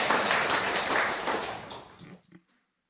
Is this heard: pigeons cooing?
no